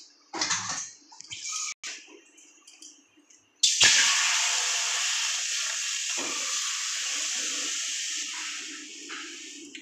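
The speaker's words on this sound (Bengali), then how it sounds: "এখানে আমি জল দিয়ে দেবো।" Water is poured into a hot pan of fried ground cumin, bay leaf and green chili while a fish roe fritter curry is being made. Soft kitchen clatter comes first, then a sudden loud rushing hiss that slowly eases off.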